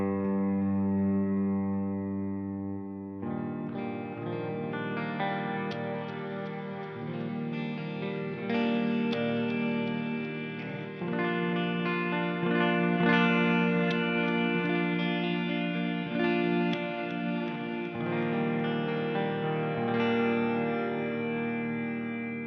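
Electric guitar through an STL Tonehub clean preset, sustained ringing chords with a shimmering, effected tone, played continuously and fairly loud with no talking.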